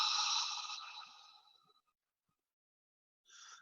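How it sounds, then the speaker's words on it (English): A slow breath out through the mouth follows an inhale through the nose, fading over about two seconds, then a short, soft breath sound near the end. The breathing is quiet and close, with no talking. "breathing in through the nose and out through the mouth."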